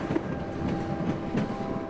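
White Pass & Yukon Route train rolling along its rails, a steady close rumble with faint clickety-clack and no voices.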